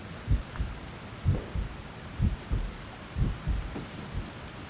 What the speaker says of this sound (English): Heartbeat's still there.